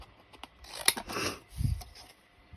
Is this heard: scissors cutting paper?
yes